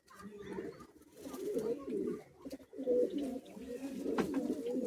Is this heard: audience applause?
no